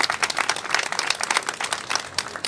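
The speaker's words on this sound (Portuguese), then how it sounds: "Uma salva de palmas para todos vocês." Dense, steady applause from a crowd at a community night of the São Pedro festival in Maranguape, with many hands clapping continuously at moderate loudness, no voices standing out.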